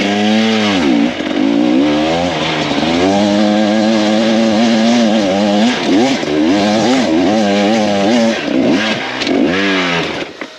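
KTM dirt bike engine revving loud and close in second gear, rising and falling in pitch as the rider works the throttle across rough off-road ground, continuous throughout.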